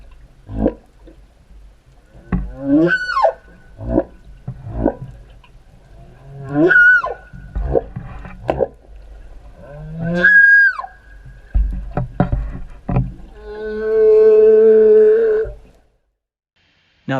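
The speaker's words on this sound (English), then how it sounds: "80-foot-long fin whales, second only in size to the blue whale, can make low-frequency moaning sounds beyond the range of human hearing" Fin whales, 80-foot giants second only to blue whales, give a series of loud rising moans and whoops. Several separate calls follow one another, then a long tonal groan near the end.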